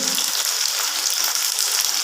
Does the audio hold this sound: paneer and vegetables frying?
yes